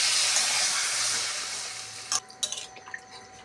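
Water pours steadily into a simmering curry of tomatoes, potato, eggplant and lentil fritters, a soft continuous rushing splash that stops abruptly, followed by a few faint drips and clinks.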